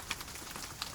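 Gentle rain on a surface, a steady soft hiss with a couple of faint sharper droplet taps, quiet and continuous with no voices.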